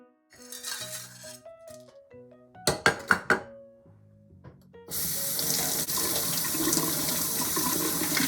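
Dried tangerine peel, star anise, bay leaves, Sichuan peppercorns and cinnamon being rinsed in water for salted duck: a few soft clinks over quiet music, then a steady, close rush of running tap water fills the rest.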